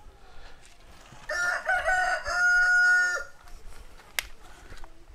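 A rooster crows once, clear and fairly close, on a farm with chickens, standing out against a quiet rural background with faint scattered clucks and noises around it.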